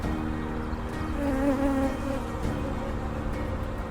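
Honeybees at an opened hive on a stormy day buzz in a dense, continuous drone, with a few individual bees whining past up close.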